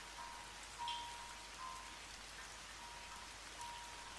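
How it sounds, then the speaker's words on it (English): Steady rain falls outside, a soft, continuous patter heard from indoors, faint and even throughout with no voices. "listening to the rain outside"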